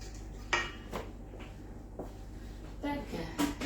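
Leek and onion stirred in a pan, with a utensil clinking and scraping against the metal in a few sharp knocks and softer stirs, fairly faint and close, with no talk over it.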